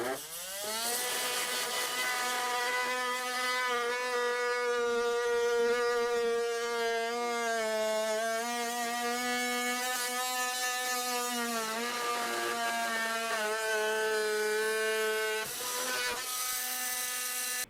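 A QBit drywall bit cuts an opening in drywall for a standard plastic old work box, giving a steady, loud, high whine that holds for about fifteen seconds, dips slightly in pitch near the end, then resumes briefly.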